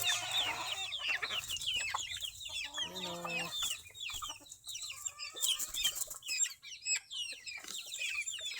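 Chicks and hens of a native gamefowl breed cluck and cheep nearby, with overlapping high peeping calls and a brief run of repeated clucks midway, fairly close, alongside soft background farm noise.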